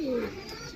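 Giribaz pigeons coo, a single low rolling coo at the start fading into soft background noise, close and brief.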